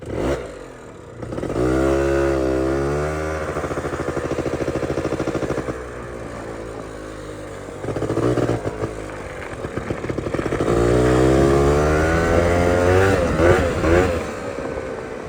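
A Honda Cub 90 motorcycle engine idles with a rough, uneven putter, then is revved in rising and falling swells, twice climbing to strong revs before dropping back toward a low idle.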